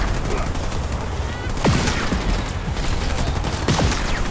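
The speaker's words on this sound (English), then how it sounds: "I'm receiving fire from enemy ground troops." Enemy ground troops firing in the Halo Wars 2 video game, heard as a dense rattle of rapid gunfire with a few sharper distinct shots and battle noise, loud and unbroken throughout.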